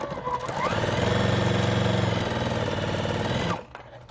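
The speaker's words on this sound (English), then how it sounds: "we're going to sew on each side of that diagonal," A sewing machine stitches quilt block fabric pieces in one steady, rapid whirring run of about three seconds that starts, holds an even pace and then stops, close and fairly loud.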